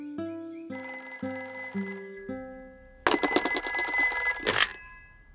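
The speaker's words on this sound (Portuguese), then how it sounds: "Alô? Papai Pig falando" A telephone rings in a Peppa Pig cartoon. A short melodic jingle of stepped tones leads into a loud, sustained electronic trill that lasts about a second and a half, then cuts off, with no voices.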